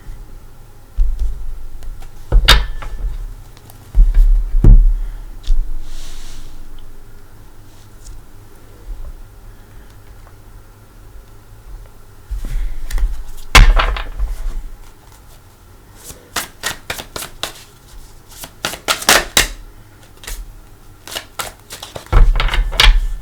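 A tarot deck is shuffled and cut by hand, heard as scattered bursts of crisp riffling and sharp card slaps, loud and close, with quiet gaps between clusters.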